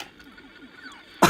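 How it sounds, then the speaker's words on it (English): A single sharp cough bursts out at the end after a short quiet stretch, close and loud, with no talking around it. "I coughed"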